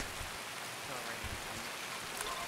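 Steady, faint hiss of rain falling on Shoreline in a video game, a soft continuous patter with scattered drops throughout.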